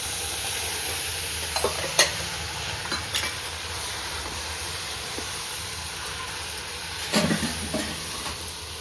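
Pav bhaji vegetable mixture with peas stirred in a pan, a steady sizzle running throughout with scattered scraping knocks of the spoon, louder clusters near the start and again toward the end, close and alone.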